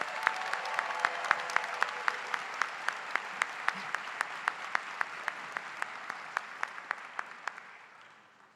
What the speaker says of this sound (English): Please give a round of applause for the 2022 LLM graduates.